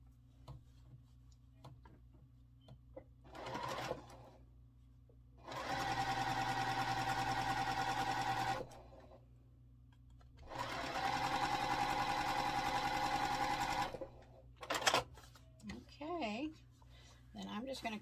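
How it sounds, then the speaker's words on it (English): Sewing machine stitching quilt block pieces into a four-patch unit, two steady runs of a few seconds each separated by pauses with small handling clicks, close and clear with no voices. "then we can sew them together to make our little 4-patch unit"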